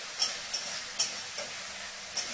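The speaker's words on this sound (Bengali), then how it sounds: "এখন রান্না করছি আলু পটলের তরকারি" Potato and pointed gourd curry cooking in a home kitchen pan, a soft steady sizzle with a few brief stirring clicks and scrapes, faint and fairly close.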